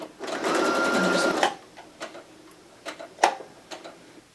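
A sewing machine stitches a pillow cover in a quick burst for about a second, then stops, followed by scattered clicks and soft mechanical ticks.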